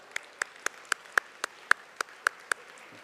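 Hand claps at a university academic and athletics awards banquet for the dining services staff, sparse and evenly spaced at a steady beat, about ten crisp separate claps with quiet between them.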